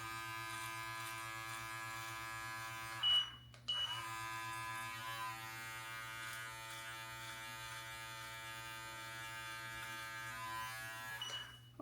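An electric beard trimmer fitted with a 1 mm guard runs with a steady, high-pitched buzz while trimming a beard near the ear, briefly cutting out and restarting partway through, close and alone with no talking.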